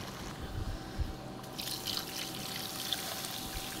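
Water is poured into a beef curry cooking on a village clay stove, a soft, steady trickle and splash that thickens after the first second and a half, with faint low crackle and rumble underneath.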